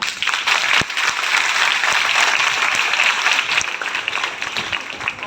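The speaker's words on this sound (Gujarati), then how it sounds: "જોરથી તાળી." Loud, sustained applause from an audience of schoolchildren, teachers and guests at a Bharat Vikas Parishad branch event in Maninagar, dense steady clapping filling the whole stretch without a break.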